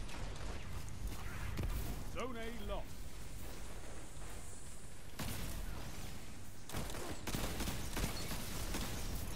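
Rapid bursts of Destiny 2 Crucible gunfire, including an exotic pistol, and booming explosions crackle continuously, with a brief voice rising over the dense, loud din.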